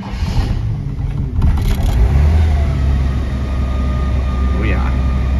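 A 1951 Chevrolet Deluxe engine is push-started and then runs. It settles into a loud, close, deep rumble that holds steady with slight surges as it revs.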